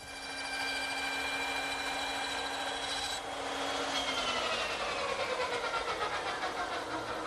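A small dovetail saw cuts tenon shoulders by hand in wood, giving a steady rasping drone that shifts pitch partway through as the strokes continue, close and unaccompanied by talk.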